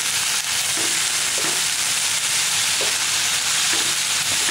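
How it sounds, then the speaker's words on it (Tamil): Gongura leaves and potato frying in a pan, with a loud, steady hiss of hot oil and occasional soft scrapes of stirring, no voices. "இப்போ இதை வந்து நீங்கள் நல்லா கலக்கி விடுங்க"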